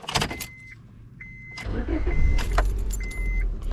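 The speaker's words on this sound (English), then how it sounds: "I let it idle for a couple of seconds before I put in drive" A 2001-2005 Honda Civic with an automatic transmission idles steadily at close range with a low continuous rumble, with a few brief clicks, rattles and a faint tone over it after starting.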